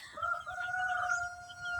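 A rooster crows in a sustained, drawn-out call, fairly close, over a low rumbling background, at a small backyard chicken farm on a lot.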